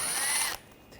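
Power tool whirring with a T20 socket, backing out screws on a 2013-2022 Buick Encore 1.4L L4 during radiator replacement; a single close, loud burst about half a second long, then it stops abruptly.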